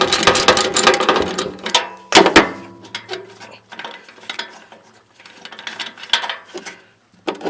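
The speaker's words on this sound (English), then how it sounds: "Now I'm going to take this bolt out." A ratchet backs a bolt out of a Generac standby generator during stator replacement: rapid metallic clicking in bursts with pauses and a few clanks, close and loud.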